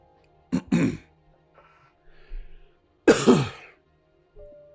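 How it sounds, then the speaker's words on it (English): Two separate coughing fits, each a pair of harsh throaty bursts, close and fairly loud, separated by quiet with faint background noise. "I'm going to keep coughing, guys"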